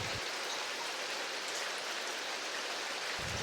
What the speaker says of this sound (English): Then the rain arrives.